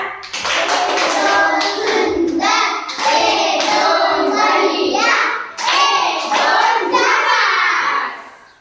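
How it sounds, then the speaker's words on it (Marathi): A class of first-standard schoolchildren breaks into loud, sustained group applause, a dense clatter of many hands lasting several seconds with a short dip midway before swelling again. "तर तुमच्या सर्वांसाठी एकदा जोरात टाळ्या"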